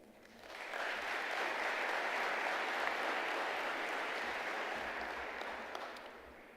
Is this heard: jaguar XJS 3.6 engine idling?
no